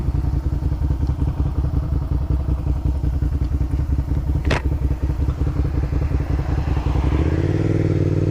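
A motorcycle engine idles and runs with a steady close rumble while stopped in traffic, a brief sharp clack partway through and the engine note rising near the end.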